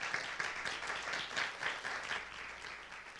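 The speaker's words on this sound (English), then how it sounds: "So let's give her a big round of applause." Soft, steady audience applause for Principal Greer at a school orientation, an even patter of many hands clapping at a modest distance for a few seconds.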